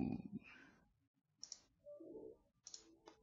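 A few isolated computer mouse clicks are heard while working in Civil3D software, sharp and quiet, spaced apart in an otherwise near-silent room.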